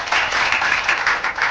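A small audience claps for a rapper on a talk show, a brisk run of distinct, fairly close hand claps with a slightly uneven rhythm and no voices over it.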